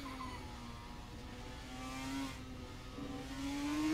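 Formula 1 car engine in a racing video game at the Japanese Grand Prix, a steady droning engine note easing off while tucked in a slipstream, then rising slightly toward the end, moderately loud and alone.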